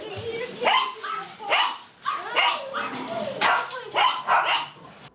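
Rescued dogs, many of them abandoned, bark repeatedly at close range in sharp, uneven bursts, with several yips overlapping in a lively chorus and no one speaking.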